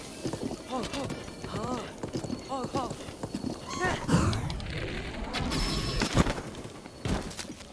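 Horse hooves clip-clop in the video game Zelda: Breath of the Wild as a horse is ridden, giving a run of rhythmic hoof beats alongside game sounds, with a voice talking over parts of it.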